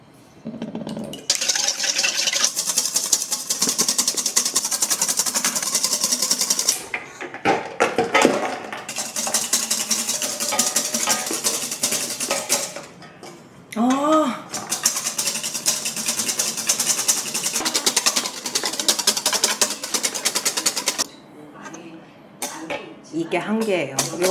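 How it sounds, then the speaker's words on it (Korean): Cream is whisked by hand in a bowl, giving bursts of rapid, fine metallic clicking and scraping that stop and restart several times, with brief talk between bursts. "휘핑기 기계는 없어서 손으로 한번"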